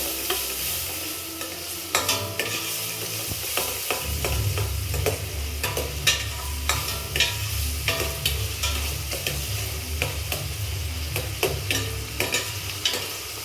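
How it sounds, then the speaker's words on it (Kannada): A mutton curry mixture with turmeric powder is stirred in a hot pan, a steady sizzle of frying under repeated scraping strokes of the spoon, loud and close, with no voices. "ಈಗ ಇದಕ್ಕೆ ಒಂದು ಸ್ವಲ್ಪ ಅರಿಶಿನ ಪುಡಿ ಹಾಕಾಕತ್ತಾರ್ರಿ. ಈಗ ಇದನ್ನು ಈ ಥರ ಮಿಕ್ಸ್ ಮಾಡ್ಕೊಳಕತ್ತಾರ್ರಿ."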